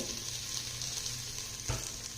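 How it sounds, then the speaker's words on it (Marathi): Toor dal being sautéed in a hot oil tempering gives a steady close sizzle with a soft stir or scrape near the end, no talking. "फोडणीमध्ये डाळ घातल्यानंतर ती 1-2 मिनिटं चांगली परतून घ्यायची आहे"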